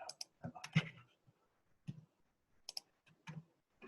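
Short bursts of clicking keystrokes on a computer keyboard, typed in uneven clusters with pauses, heard close alongside speech.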